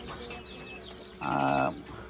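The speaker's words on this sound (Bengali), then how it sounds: "এই যে দেশি মুরগির বাচ্চা এই যে এখানে দেখেন হিট প্রক্রিয়া চলতেছে" Local chicks cheep under a heat brooder on a chicken farm, faint and scattered, with one brief louder clucking call near the end.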